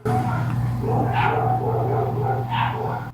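Dogs barking at a distance behind steady talk, two muffled barks a little over a second apart within a constant background drone.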